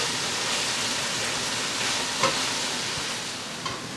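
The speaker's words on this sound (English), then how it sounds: "we're just going to cook this spinach down" Spinach cooks down in a pan for a farfalle pasta sauce, making a steady, even sizzle throughout with a faint tap or two, alone without speech.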